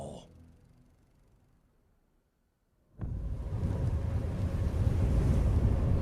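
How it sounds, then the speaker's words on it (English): A cold, sharp, strong wind blows. A quiet stretch fades nearly to silence, then a loud, steady roar of gusting wind hits the microphone abruptly and continues unbroken. "The wind sharp and strong."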